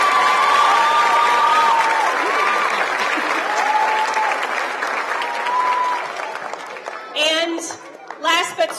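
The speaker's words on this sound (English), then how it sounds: "If we could give our kindergarten teachers a big round of applause as well." An audience at a kindergarten celebration claps steadily in a thick wash of applause that slowly thins out, with scattered voices and a few louder claps near the end.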